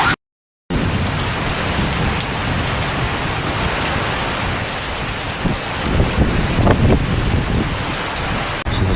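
Heavy rain pours down continuously in Rabigh, Saudi Arabia, a dense hiss of drops on surfaces, with a short silent gap near the start and occasional heavier spatters.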